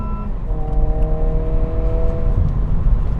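Honda Civic Si engine pulling hard above 4,500 RPM, a close, steady rising drone with tonal harmonics climbing in pitch over about three seconds, heard from inside the car with no talking.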